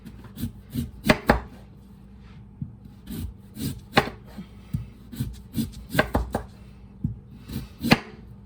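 Sharp kitchen knife chopping Easter dinner ingredients on a cutting board, loud crisp irregular chops and taps in clusters, close up with brief pauses between strokes.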